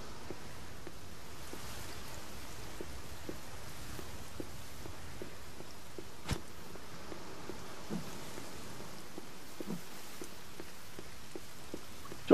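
Quiet, even rainfall patters in a forest survival game, a faint continuous hiss dotted with light scattered ticks and one brief sharp crack midway.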